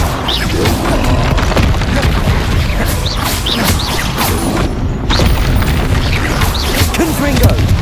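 Confringo blast spell explosions in Hogwarts Legacy land as loud, close booms and crashes over a dense, busy combat din that runs without a break.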